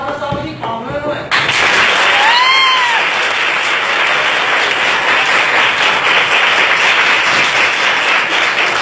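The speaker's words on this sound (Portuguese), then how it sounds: "Eu acho que é justo dar uma salva de palmas, não é?" Students burst into loud, sustained applause for their teacher in a classroom. A brief stretch of talk and a whistle-like tone come first, then the clapping and crowd noise hold steady and strong.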